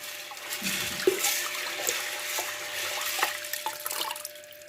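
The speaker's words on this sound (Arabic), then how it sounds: "هكب المية دي واحط مية نضيفة تاني" Water runs and splashes steadily with small drips and clinks as lupini beans are rinsed under a tap, close by with no talking.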